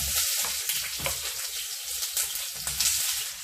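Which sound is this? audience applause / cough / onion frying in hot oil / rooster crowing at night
onion frying in hot oil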